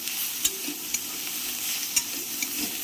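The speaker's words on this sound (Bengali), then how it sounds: "ভাজাটা প্রায় হয়েই গেছে এটা বেশিক্ষণ লাগে না এটা ভাজা হতে" Oil sizzles steadily in a pan, with occasional sharp clicks of a utensil scraping and stirring, close and fairly quiet, with no talking.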